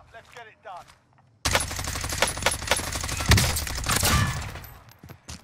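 DMR rifle gunfire in the video game Warzone: after a brief spoken remark, a sudden loud run of rapid, closely spaced shots with heavy low thumps, continuing for several seconds before trailing off.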